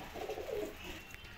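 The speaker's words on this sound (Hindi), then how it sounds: "ये देखें ये सारे कबूतर बैठे हैं" Pigeons of kamagar and teddy breeds coo softly in a short, low, rolling call from birds perched nearby, with no talk over it.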